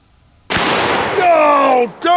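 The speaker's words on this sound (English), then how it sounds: "So we're gonna shoot one can with the 12 gauge and one can with the 10 gauge." A 12-gauge or 10-gauge shotgun fires at a can: a single loud, close blast that rings out and decays over about a second, followed by a short voice.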